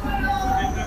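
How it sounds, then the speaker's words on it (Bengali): Train pulling into Chakdah station platform, a steady close rumble of wheels and carriage noise with faint high squealing tones, heard from on board. "ট্রেন এখন চাকদা স্টেশন ঢুকলো, চাকদা প্ল্যাটফর্মে।"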